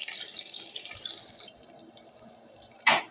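Chopped onion dropped into hot oil in a pan for a potato fry makes a broad, steady hiss that fades after about a second and a half, followed by scattered small crackles and a brief louder burst near the end.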